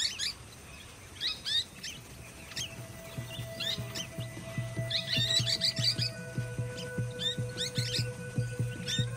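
Golden-shouldered parrots call from Australian bush in a repeated series of short, bright chirps and tweets, some near and some farther off, over a steady low hum and other faint tones, with no voices.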